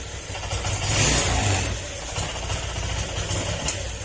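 A Honda Click 125 V3 scooter engine with a weak fuel pump revs up close, swelling to a rough peak and then sagging unevenly as it stumbles and misfires, with no talk.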